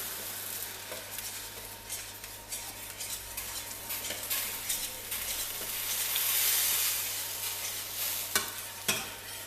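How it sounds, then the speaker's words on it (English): A spoon stirs sugar into sliced apples for a pie filling in a bowl, giving wet, scraping swirls that swell and fade with a few sharper clinks near the end. No one speaks. "you're going to get your spoon, like this, just going to mix it around"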